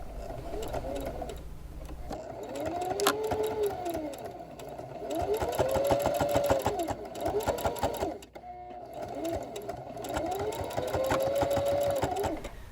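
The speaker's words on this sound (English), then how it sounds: "So bring this over the machine and just make those 2 small lines of stitching." A sewing machine stitches two short lines through a quilted coat's jacket exterior, running in several loud, rapid bursts with brief pauses between them over a tonal background.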